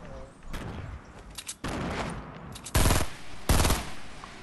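Bursts of light machine gun fire in Fortnite, with two loud, dense volleys standing out after softer scattered shots and game noise.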